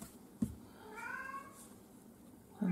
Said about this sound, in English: my cat's meowing again